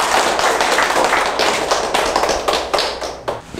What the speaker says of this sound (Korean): 이분 위에 가지고 박수 한번 해주세요.